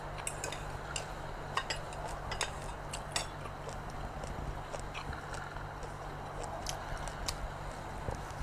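Quiet eating of rice with chili paste and a Thai omelette outdoors in a desert, with scattered light clinks of cutlery on a plate and soft bites over a steady low background hum.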